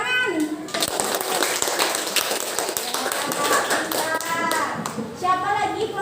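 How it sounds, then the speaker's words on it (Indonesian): Classroom of students clapping hands together during a microteaching lesson, a loose burst of overlapping claps with children's voices talking over it throughout. "Tepuk tangan."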